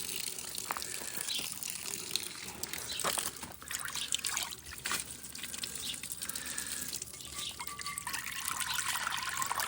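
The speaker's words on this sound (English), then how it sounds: "I gotta go rinse this off." Running water from a tap rinsing a rusty cast iron skillet, a steady hissing trickle with faint clinks and splashes throughout, no voices.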